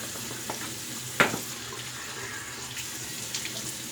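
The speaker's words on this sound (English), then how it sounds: "let's cold water rinse" Cold water runs steadily from a tap for rinsing during a shave, a soft, continuous hiss and splash at modest level, with one brief clatter partway through.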